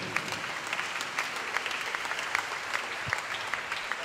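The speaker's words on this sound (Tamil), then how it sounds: "எல்லோரும் எழுந்து நின்று கரவொலி ஒலித்து அவரை பாராட்டும் விதமாக அவரை பாராட்டுவோம்" An audience at a Sacred Heart shrine feast in Egmore stands and claps for the parish priest, a dense, even wash of applause from many hands, steady for several seconds without voices rising above it.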